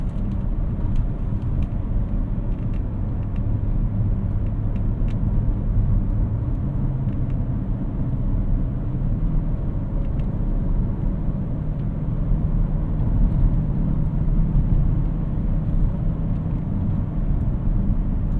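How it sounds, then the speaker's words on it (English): Low, even drone of a 2014 Porsche Cayenne GTS V8 with about 99,000 miles, exhaust baffles closed, heard from inside while cruising; a steady rumble with no distinct revs. "Still got plenty of V8 sound even without the baffles open."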